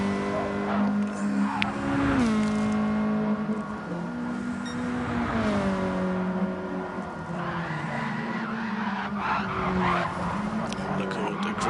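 A race car in a WTCC sim racing round at Alsace, engine revving and changing pitch while tires squeal and skid under heavy braking, continuous and loud with a commentator's voice over it.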